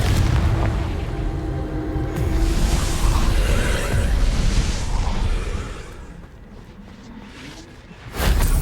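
A Confringo blasting spell explodes in Hogwarts Legacy, a long rumbling boom that fades and ends with a fresh sharp burst.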